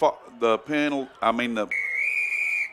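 A referee's whistle at a prep football game gives one sustained, steady blast after a stretch of close commentary talk.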